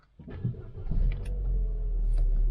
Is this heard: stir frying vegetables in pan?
no